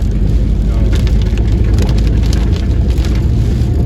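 Steady, dense rain noise fills the whole stretch, a constant broadband hiss with a low rumble underneath and no clear voices.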